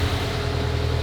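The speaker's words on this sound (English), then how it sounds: "You bought a car that sounds like this." Engine of a Japanese sports car with 107,000 miles, long neglected in a yard, idling loud and close with a rough, steady low rumble and no talk.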